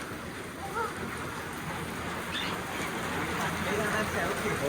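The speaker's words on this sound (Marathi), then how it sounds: "आम्हाला वाटलं येणार नाही पण शेवटी पाऊस आला" Heavy first rain of the season pours outdoors in a steady, dense hiss that swells slightly toward the end, with muffled voices faintly underneath.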